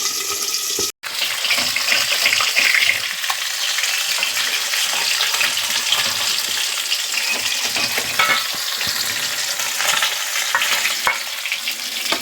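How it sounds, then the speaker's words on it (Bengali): Tilapia fish pieces frying in oil in a pan, a loud continuous close-up sizzle and crackle throughout, with a brief dropout near the start and no talking. "মাছগুলো এক পাশ ভাজা হয়ে গেছে, আরেক পাশ ভেজে নিচ্ছি"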